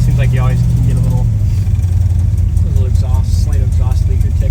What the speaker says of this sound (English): slight exhaust leaker tick at the headers when they come to the collector